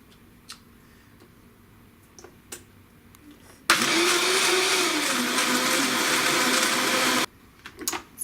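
A blender purees cashews with almond milk in one loud, continuous burst of about three and a half seconds, with quiet kitchen ticks and clicks before and after.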